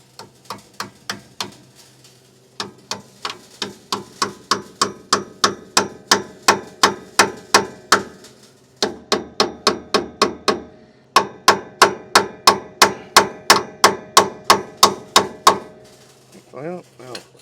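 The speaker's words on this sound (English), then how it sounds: "Take your hammer." Hammer tapping a metal brake hose retaining clip into place on a Jeep CJ5 during a rubber brake hose replacement: three bursts of steady, sharp, close metallic strikes, each a rapid series of even blows, with no talking.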